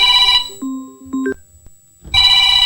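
A phone rings with an incoming call to a live call-in show, giving a short electronic ringtone melody of a few rising tones between stretches of steady background music, loud and close.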